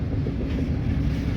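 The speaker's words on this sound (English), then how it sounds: "there's 2 NS units leading 2 UP engines on this westbound stacker" A westbound double-stack freight train on the Union Pacific Transcon line, led by two Norfolk Southern and two Union Pacific locomotives, rolls past nearby as a loud, steady low rumble mixed with wind.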